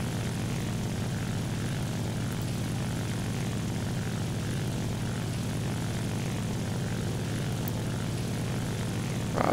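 A propeller fighter plane engine drones in an air combat video game, a loud, steady, close roar that holds without a break and is heard alone.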